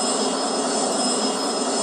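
Aircraft engines in Real Flight Simulator, a steady continuous jet-like roar with a thin high whine, loud and unbroken, no talk.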